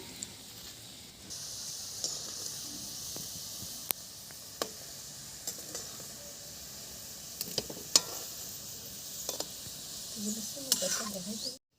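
Bhetki fish fingers frying in hot oil, a soft continuous sizzle with scattered sharp clicks and pops, fairly faint and steady throughout.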